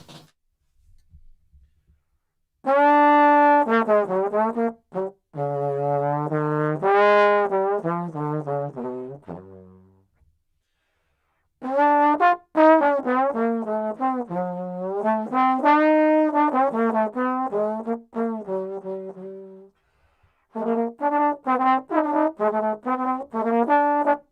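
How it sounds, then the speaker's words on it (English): A trombone plays a free, wandering melody in separate phrases with pauses between them, close and clear, with no talking. "Now, when I take the trombone, it's the very same."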